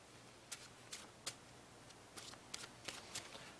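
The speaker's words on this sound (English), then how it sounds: "Did you put the card in there? Yeah. Now shuffle up." Playing cards shuffled during a magic trick, a quiet run of crisp riffling bursts in uneven clusters over soft room hiss, with no voices.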